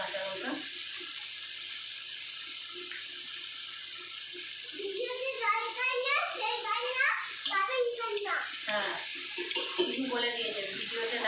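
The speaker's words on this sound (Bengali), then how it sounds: "এক দু মিনিট নাড়াচাড়া করে নেবো কাঁচা লঙ্কাটা দিয়ে দেবো টমেটো" Green chilli and tomato fry in a pan while being stirred, giving a steady sizzle throughout; a voice talks over the second half.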